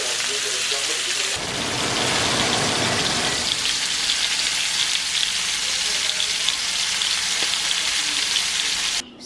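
Food frying in a pan gives a steady, loud crackling sizzle that holds for nine seconds without a break. It turns dense and busy after the first second, then eases a little toward the end.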